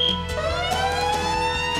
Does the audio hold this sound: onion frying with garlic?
no